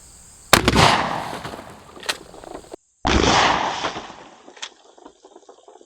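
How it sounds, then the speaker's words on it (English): Two loud, close shotgun blasts of Federal Flight Control nine-pellet double-aught buckshot, high velocity, fired at water jugs seven yards away, each sharp report ringing out briefly before fading. "I'm going to take all these shots at 7 yards for a little bit of consistency."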